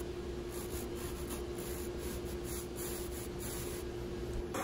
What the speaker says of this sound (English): I found this tool out of Canada. And it just plugs in and it cleans up the sides really quickly. It's just a flap sander.